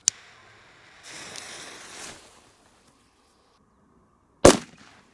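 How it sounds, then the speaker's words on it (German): Illegal Polish firecracker with a fuse exploding against an ammunition box: a sharp crack at the start, a hissing fizz, then a second loud bang with a brief metallic ring, outdoors. "Aber es sind die kleinen mit der Zündschnur. Viel zu schwach für diese Kisten sind diese Böller."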